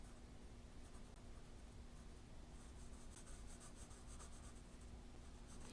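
A pencil moves across paper as a landscape sketch is transferred, a soft, continuous scratching and rubbing, faint and close, with no talk over it.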